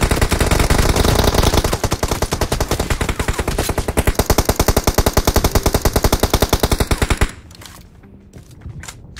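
Rapid automatic gunfire in the video game PUBG Mobile, a loud, evenly spaced stream of shots lasting about seven seconds before cutting off into quieter game ambience with a few scattered reports.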